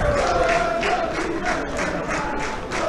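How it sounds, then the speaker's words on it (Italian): Football supporters at an amateur Italian stadium match between Saronno and Varese keep up a loud, steady crowd chant with rhythmic surges, a dense wall of voices throughout. "tifo sempre da una parte e dall'altra"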